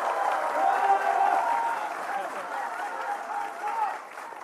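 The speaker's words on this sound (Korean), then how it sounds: "큰 박수 부탁드리겠습니다." A studio audience at a Korean political talk show applauds steadily as a party leader is welcomed, moderate clapping mixed with crowd murmur and talk over it.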